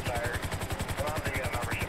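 A helicopter flying close by during a Coast Guard search over water makes a loud, steady, rapid rotor chop that fills the whole clip.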